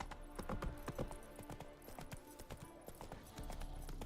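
Roach, Geralt's horse in The Witcher 3, gallops in a quick, even rhythm of hoofbeats, fairly close and unbroken across the whole stretch, with no talk over it.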